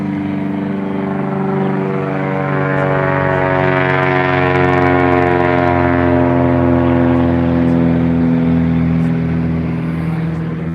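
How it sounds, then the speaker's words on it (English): An airplane flies low overhead outdoors, its loud droning hum swelling to a peak and holding steady throughout, with no talking. "Sorry, there's a plane coming."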